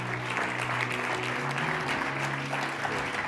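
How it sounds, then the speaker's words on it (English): Audience applause at a panel event as guests come on stage, steady dense clapping throughout, with faint tonal background sound beneath it. "let's give them a big round of applause"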